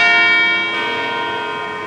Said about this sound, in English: the church bells go